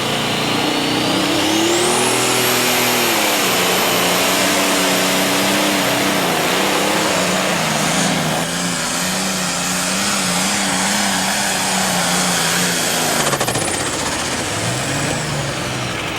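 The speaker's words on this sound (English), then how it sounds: "You heard that little flutter? That is a turbocharger going bad." A 1998 NTPA pro stock pulling tractor roars loud and steady at a Bowling Green, Ohio pull, its wavering engine tone rising and falling with a faint turbocharger flutter from a failing turbo riding underneath the boost.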